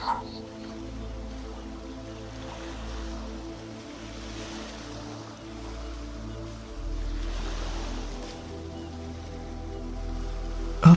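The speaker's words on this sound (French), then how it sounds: "Observez les vagues qui dansent doucement devant vous." Ocean waves wash onto a beach in a gentle, repetitive rhythm, a soft continuous surf with low rumbling swells that hold at moderate loudness throughout.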